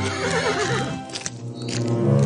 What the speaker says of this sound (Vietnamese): Con ngựa cứ thế làm việc phăng phăng.